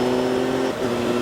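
Engine of a Triumph Tiger 1200 motorcycle pulling hard in fifth gear on an open road while overtaking, a loud steady droning hum with a brief dip in pitch mid-way, heard alone with wind noise.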